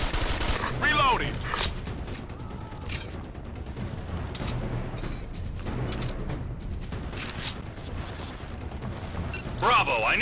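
Gunfire from the tactical shooter Ghost Recon Advanced Warfighter 2 on PC, scattered bursts and mechanical clatter running under a dense battle bed, with radio voices talking over it.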